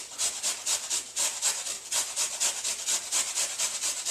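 A carrot is grated by hand on a grater for muffin batter, making steady, rhythmic rasping strokes at close range, about eight quick scrapes per second throughout with no talking.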